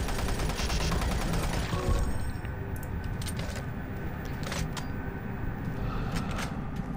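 Doom 3 BFG Edition gunfire, a dense loud barrage of shots for about two seconds, then scattered sharper shots and clatter over game ambience.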